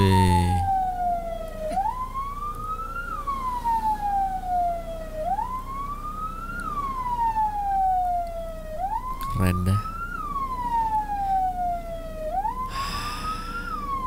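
A loud ambulance siren wails close by on a Malaysian road, rising and falling in a slow repeating cycle, with traffic rumble and occasional clicks underneath.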